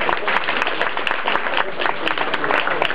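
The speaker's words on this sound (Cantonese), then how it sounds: "請各位再一次俾熱烈嘅掌聲，呢對新人" Wedding guests at a Hong Kong celebration give the newlyweds warm applause. Brisk, dense clapping from a sizeable crowd carries on steadily from start to finish, close and fairly loud.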